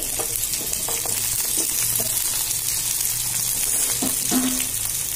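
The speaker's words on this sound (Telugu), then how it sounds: "ముల్లంగి ఇందాక తరిగి పెట్టుకున్నాం కదండి అవన్నీ వేసేస్తున్నానండి కూరగాయలన్నీ" Chopped radish and other vegetables tipped into a hot pot for Nellore-style sambar, a continuous loud sizzle and frying hiss with scattered clinks and stirring knocks.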